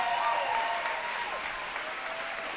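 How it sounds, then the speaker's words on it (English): An arena crowd at an RFO Big Guns fight event applauds two female competitors after their bout, a broad, even wash of clapping that holds steady and slowly eases off. "Ladies and gentlemen, a big round of applause for both of these female RFO competitors."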